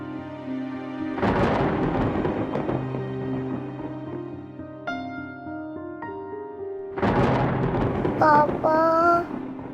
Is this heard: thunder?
yes